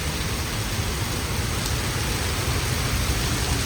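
A steady, loud downpour of heavy Mumbai rain keeps a constant hissing wash from start to finish, with no voices or other sounds standing out.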